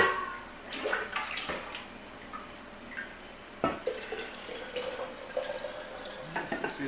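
Dark beef bone broth pours into bottles, giving intermittent splashing and gurgling bursts with small clinks in between, close and moderately quiet.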